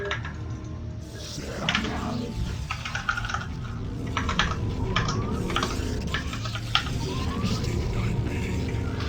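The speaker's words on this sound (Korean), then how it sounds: "어, 오늘 키보드가 진짜 이상하게 들리네요." Rapid, irregular clicking of keys on a computer keyboard during a StarCraft game, close and continuous, with some background clatter mixed in.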